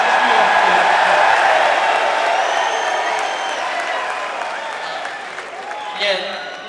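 Perth crowd at a UFC press conference for Dricus Du Plessis vs Israel Adesanya, with steady cheering and applause filling the room throughout, gradually easing off with a brief swell near the end.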